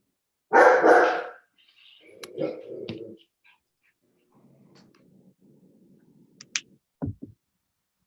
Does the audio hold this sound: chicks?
no